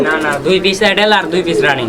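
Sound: pigeons cooing at a pigeon sale

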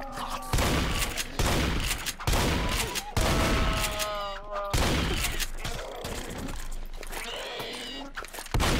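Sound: shotgun firing in Garry's Mod video game

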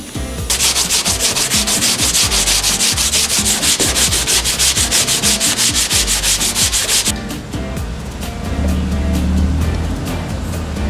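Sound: sanding Bondo body filler on van

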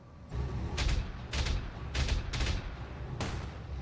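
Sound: turret firing in the video game Battletech

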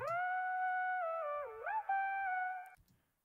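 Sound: pitched vocal sample for a beat without processing

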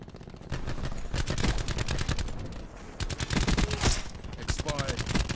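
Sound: VMP submachine gun firing in a Call of Duty video game

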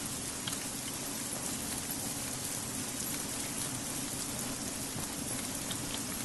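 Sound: heavy rain in a video game

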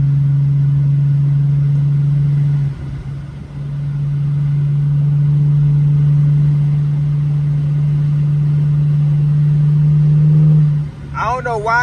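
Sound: Mercedes W210 car driving

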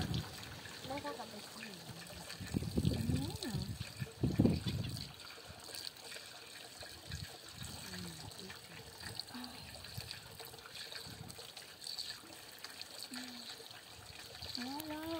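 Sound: water running while washing a child's hair

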